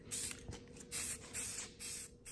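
A spray paint can hisses in several short bursts, quiet and close, each spurt lasting a fraction of a second with brief pauses between, while painting a pot in a garage.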